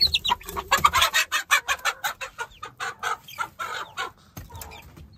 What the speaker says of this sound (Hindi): मुर्गी को हम वैसे ही पकड़ लेते हैं, मुर्गी मारती भी है भाई साहब।